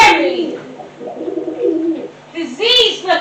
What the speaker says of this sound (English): diseased-looking pigeon.